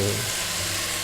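Garlic, carrot and peas fry in olive oil, making a steady, close, fairly loud sizzle across the short moment, with a brief low clatter at the start.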